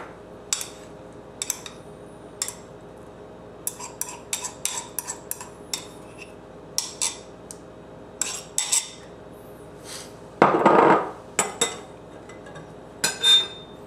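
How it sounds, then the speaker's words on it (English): A wire whisk cuts cold butter into a flour mixture in a bowl for biscuits, giving scattered light clinks and taps of metal against the bowl, some quick clusters, with a louder scraping rustle near the end and no talking. "So I'm just going to be using my whisk to cut it in there."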